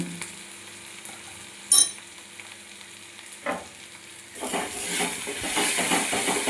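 Chilli powder, turmeric and salt fry in oil while being stirred, with a low crackle and a sharp utensil clink early on, then a louder, fuller sizzle rising over the last couple of seconds.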